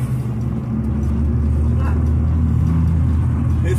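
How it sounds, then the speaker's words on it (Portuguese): A Peugeot 307 with a 1.6 engine, a large and heavy car, accelerates with a loud, steady engine rumble and road roar heard close up, without a break. "Pô, esse carro anda pra caramba, mano. Você é louco, você dá uma pisadinha,"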